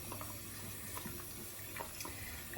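Tap water runs into a container to clean a hiking water filter on an Appalachian Trail thru-hike, a soft continuous trickle with small splashes and knocks, faint and close, no speech.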